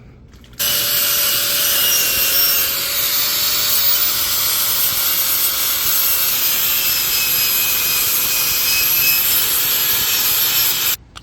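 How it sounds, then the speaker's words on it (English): Loud, continuous abrasive grinding as a tool scrapes wicker strands off steel tubing on a furniture frame, starting abruptly and running steadily for about ten seconds before cutting off. "just use this to start removing all the wicker from the steel tubing"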